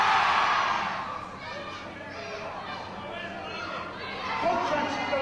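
A wrestling crowd cheers and shouts at a live show, a loud swell at first that settles into a steady roar of chatter and whoops, with voices talking over it.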